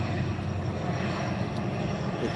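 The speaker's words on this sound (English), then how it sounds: "Plane going by." A fixed-wing airplane passes overhead, heard as a steady, broad rumbling roar that holds at an even level for the whole stretch, with no voices over it.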